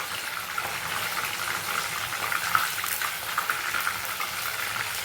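Hariyana-style chicken pieces fry in hot oil with a steady, dense crackling sizzle, fairly close and continuous, with no one talking.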